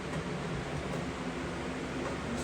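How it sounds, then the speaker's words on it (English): An electric fan runs steadily close by on a hot summer day in a homestead house near a breaker panel, giving a constant, even whooshing hiss with no voices. "Sorry about the fan noise."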